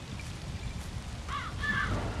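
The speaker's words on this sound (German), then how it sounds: "Boah, nee, nur Vögel" Crows caw twice in the Zombi video game, short rising-falling calls about a quarter second apart, heard clearly over a low rumbling ambient bed with no talk.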